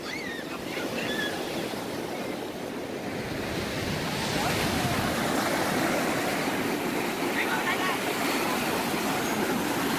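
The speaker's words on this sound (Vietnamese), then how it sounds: "Wow, sóng mạnh quá." Strong sea waves surge and wash continuously at Vũng Tàu as a fishing net is hauled in from the surf, a loud broadband roar with gusty wind buffeting the microphone and a few faint voices in the background.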